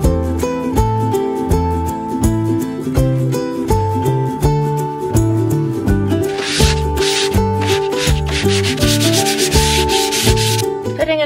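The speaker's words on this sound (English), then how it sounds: "I'm just sanding them in between and going for a second coat." Sanding varnished wooden pantry shelves between coats, a steady rhythmic back-and-forth scraping rub, loud and close, repeating in quick even strokes over a constant hum, with no voices.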